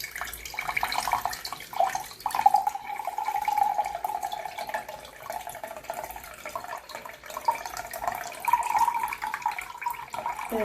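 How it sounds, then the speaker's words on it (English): Water is poured out of a jar of fermenting grain past a loosely held lid, making an uneven trickling splash that swells and thins for about ten seconds. "and then pour the water out."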